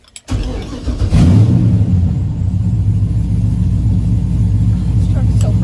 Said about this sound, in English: This truck is so perfect. Sounds good.